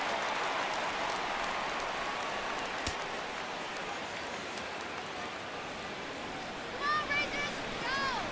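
The crowd in the MLB 17 The Show baseball video game swells into a steady cheer at a full count, a broad, fairly faint roar with brief whistles near the end.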